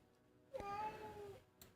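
A house cat lets out a single drawn-out meow, close and fairly clear, followed by a brief quiet click.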